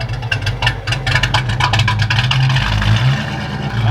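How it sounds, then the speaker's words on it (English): Car engine revving hard with a blower-like supercharger whine, loud and close, steady rumble under rapid pulsing bursts with no talk. "It sounds like it's got a freaking blower cam."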